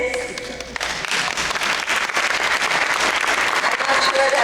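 Loud audience clapping fills a convention plenary hall, a dense continuous patter of many hands that starts after a brief moment of speech and holds strong throughout.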